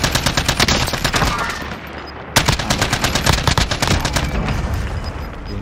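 Call of Duty Warzone gunfire in Verdansk, fast sustained automatic bursts that are loud and close, with a brief pause in the middle before the rattling fire resumes.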